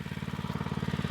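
A plate compactor runs on limestone gravel with a fast, even pulsing thump, a steady mechanical chug heard from moderately close.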